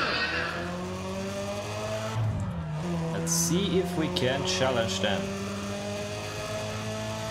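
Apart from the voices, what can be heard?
Chevrolet car engine racing in video game NFS ProStreet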